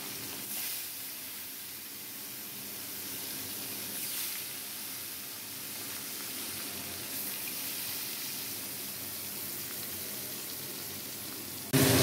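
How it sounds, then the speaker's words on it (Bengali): Pieces of katla fish rubbed with salt and turmeric fry in a pan, giving off a faint, steady hiss that runs evenly throughout, with a brief louder bump at the very end. "এখানটা তো মাছ ভাজা আমি বসিয়ে দিলাম"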